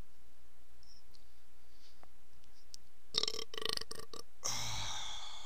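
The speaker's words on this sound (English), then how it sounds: "That was a burp." A burp erupts near the end of a quiet stretch, a short rough belch followed by a longer gurgling one, close and fairly loud against faint background hiss.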